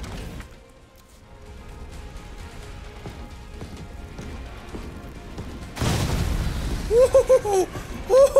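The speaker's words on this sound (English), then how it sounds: "Maybe a grenade is in order here." A grenade goes off in Resident Evil 3 (2020), a sudden loud blast partway through that rolls into a heavy rumble, after quieter game ambience and followed by a voice speaking.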